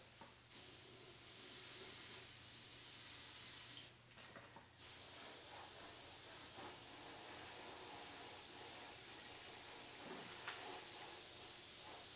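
A paint sprayer mists paint lightly onto a Doctor Doom model, a soft continuous hiss running for most of the time with a short break partway through, fairly faint over a low background hum.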